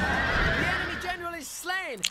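Horses neigh loudly in a Total War: Rome battle, a couple of descending whinnies rising out of a busy battlefield din with a brief clatter at the end.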